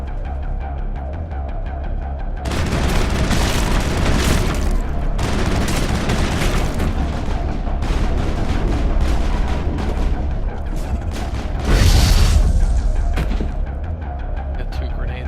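Grenade explosions in the Broforce video game erupt as a dense run of booming blasts, with a louder burst near the end and a quieter lead-in before the barrage.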